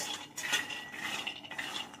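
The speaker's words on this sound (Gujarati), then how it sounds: "પહેલાં મેં માંડવીને શેકાવા મૂકી દીધી છે ગેસ ચાલુ કરીને કઢાઈમાં." Peanuts roast in a kadai over a gas flame while a spoon scrapes and stirs them, producing continuous close metallic scraping and rattling of the nuts against the pan, with no voices.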